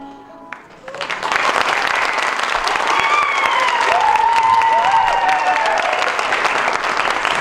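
A theater showcase audience breaks into applause after a brief quiet start, dense clapping mixed with crowd noise and a few cheers that carries on steadily, with some voices calling out over it.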